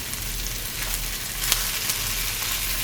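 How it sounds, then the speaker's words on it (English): Onions frying in a pot for a curry, sizzling with a steady, dense hiss at moderate level with a few faint pops, close and continuous without talk. "allow that to cook until the onions are tender, translucent, and light brown on the edges"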